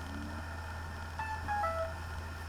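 A mobile phone rings indoors with a short electronic melody of a few tonal notes over a steady low hum, fairly faint and with no talking.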